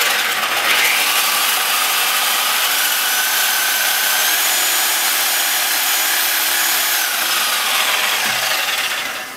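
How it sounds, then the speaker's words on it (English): A Sawzall reciprocating saw cuts through deer bone with a loud, continuous, harsh rasping buzz that runs nearly unbroken for about nine seconds, close up. "use a Sawzall here."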